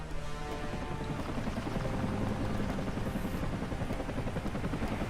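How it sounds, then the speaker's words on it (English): A Comanche attack helicopter in the real-time strategy game Rise of the Reds, a loud steady rotor thrum that carries on without a break under the game's battle noise. "we've got the first Comanche in the air"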